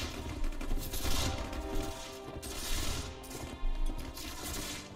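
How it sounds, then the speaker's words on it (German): Swedish cavalry in the Mount and Blade video game fire volleys of gunfire: repeated sharp cracks and rolling bursts layered over a low battlefield rumble, with clustered shots arriving every second or so. "meine schwedischen Reiter schießen ja auch fleißig"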